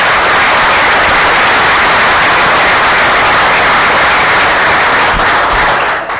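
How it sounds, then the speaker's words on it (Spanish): Loud, dense audience applause at an asset-management conference in Chile, sustained throughout and tapering off at the very end. "Aplauso, Paloma."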